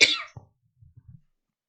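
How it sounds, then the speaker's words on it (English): A single loud close cough bursts out, followed by a few faint, short throaty sounds trailing off into silence. "I got a cough, guys."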